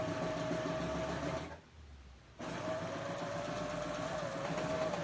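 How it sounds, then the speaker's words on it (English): A serger sews off the end of quilt binding, giving a steady close mechanical whirr that pauses briefly partway through before resuming at the same even pace. "And I'm going to sew off."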